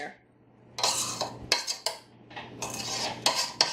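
A utensil scrapes flour off the side of a mixing bowl while plain cake batter is prepared, with a run of short, close scraping and clinking strokes and brief pauses between them.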